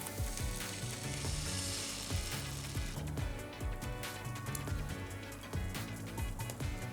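Vegan meatballs and their mixture frying in a pan: a steady, bright crackling sizzle with small pops and occasional stirring scrapes, close and continuous throughout.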